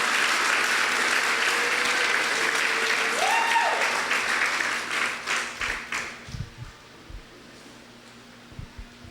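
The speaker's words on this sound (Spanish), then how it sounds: "Dale un aplauso al que vive para siempre." A congregation at a church meeting breaks into sustained applause that fills the room, then thins into scattered, fading claps before near silence.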